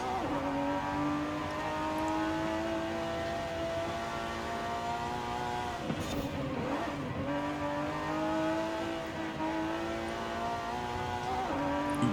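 A low-slung tuned race car without aero in a racing video game, its engine droning steadily at high revs with shifting pitch and a brief dip as it changes gear, loud and continuous with no talk.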